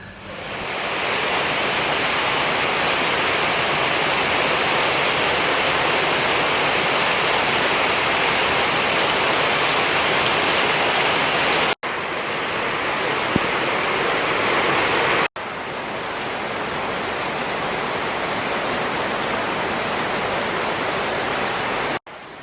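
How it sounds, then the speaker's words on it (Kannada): Heavy rain roaring in a constant, loud broadband wash, briefly cut off a few times, with no talking. "ಬೆಳಗ್ಗೆನೆ ಜೋರಾಗಿ ಮಳೆ ಬರ್ತಾ ಇದೆ ಇಲ್ಲಿ"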